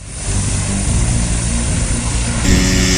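An Air Zermatt rescue helicopter, close and loud, with a steady roaring engine and rotor drone that shifts abruptly in tone near the end.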